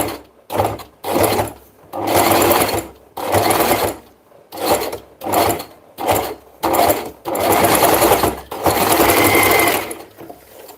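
Close, loud bursts of a sewing machine stitching fabric, about nine runs of fast whirring needle action separated by short pauses, the last few runs longer.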